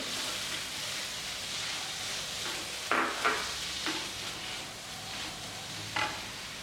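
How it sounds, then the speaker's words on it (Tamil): Tomatoes sautéing in masala in a pan for a paneer peas gravy, a quiet soft sizzle with a few sharper spatula scrapes and stirs, close but faint, no talking. "இப்போ தக்காளி போட்டுக்குவோம். தக்காளி நல்லா மசிஞ்சு ஒன்று சேர்ற வரை வதக்கணும்."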